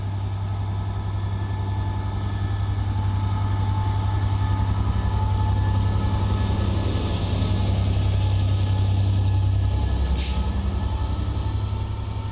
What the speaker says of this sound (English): 67010 is running the 1001 Transport for Wales service to Manchester Piccadilly